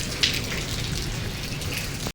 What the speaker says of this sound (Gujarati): અત્યારે વરસાદ આવ્યો અને પવન સાથે વરસાદ આવ્યો